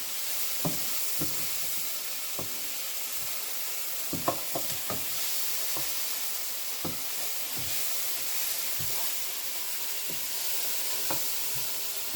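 Pasta is stirred in a sizzling cooking pan, a steady frying hiss underneath with scattered scraping clicks of the utensil against the pan, close and continuous.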